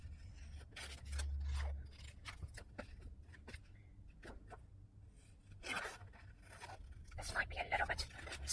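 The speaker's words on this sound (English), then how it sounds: "just cutting this out." Scissors snip and scrape through paper while cutting out a shape for a circle art journal, close and intermittent with rustling handling sounds and some speech in the background.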